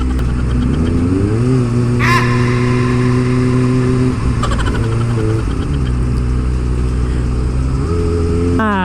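A Kawasaki ZX25R motorcycle with an Akrapovic exhaust runs loud and close in steady high-revving engine drone, with repeated rises and dips in pitch as it shifts up and down through the gears in traffic.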